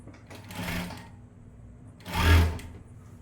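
A sewing machine stitches the side seam of a blouse in two short bursts, a brief whirring run early on and a louder one near the end, separated by a quiet pause.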